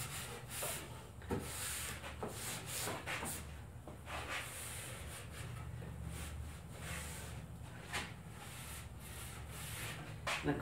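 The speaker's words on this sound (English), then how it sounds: "I'm going to take and wipe off these really bad dribbles in here" Cloth wiping glue dribbles off a wooden telescope mirror box, a steady close rubbing and scrubbing with light knocks and small bumps of the wood throughout.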